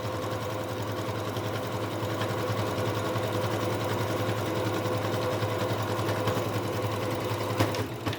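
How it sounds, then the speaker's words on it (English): A sewing machine runs continuously, stitching a top-zip project bag shut, with a steady mechanical drone and rapid needle rattle held close throughout, ending with a couple of small clicks. "I want this whole thing sewn shut and nice and tight."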